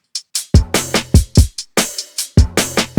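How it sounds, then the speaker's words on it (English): A tom fill from the verse of a bedroom pop track, with fast descending drum hits that roll across the kit, loud and close with no voice. "And then the last thing in the verse drums is this tom fill."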